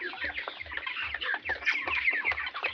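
A flock of 33-day-old broiler chickens sick with a cold, clucking and chirping continuously at close range over a regular low mechanical thump.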